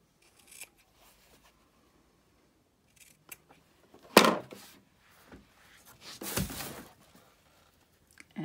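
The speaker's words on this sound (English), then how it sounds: "Now I'm going to go back and clip the corners, making sure I don't clip through my seam" Sharp scissors snip the corners of a sewn fabric face mask, giving a few isolated, close cuts separated by quiet pauses, with no talking.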